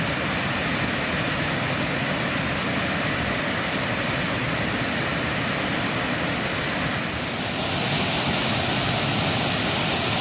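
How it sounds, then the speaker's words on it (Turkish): Canikdere waterfall in Tonya, Trabzon, pours in a steady, dense roar of rushing water, loud and unbroken throughout. "Canikdere Şelalesi'nin tüm ihtişamıyla beraber akışını izliyorsunuz"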